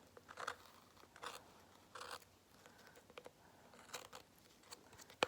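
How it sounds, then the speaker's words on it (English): Scissors snip little leftover pieces off a Dollar Tree candle, a handful of quiet crisp cuts at irregular intervals, close by with no talk. "just take your scissors and do the best you can to get all these little"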